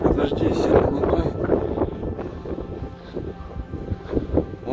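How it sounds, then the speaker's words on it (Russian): Gusty wind buffets the microphone outdoors among the rocky cliffs of the Snoring Rocks, a steady low rumble with surges, while a person talks over it throughout. "Ты ветер. Подожди, сильно не дуй."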